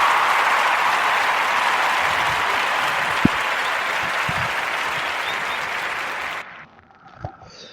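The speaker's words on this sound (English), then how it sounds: "give a warm narrative podcast round of applause for Mr. Demetria Reno in First Batch" A warm round of applause from an audience, a sustained wash of clapping that holds steady for several seconds, then cuts off abruptly into near silence with a faint noise afterward.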